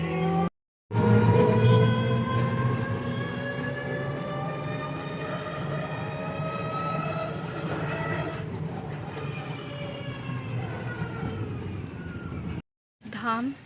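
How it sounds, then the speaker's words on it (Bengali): A train pulls out of a station with a sustained, tonal rumble and groaning wheel noise that holds steady, broken by two short cuts to silence. "ট্রেনটা চলে যাচ্ছে, বুঝলে?"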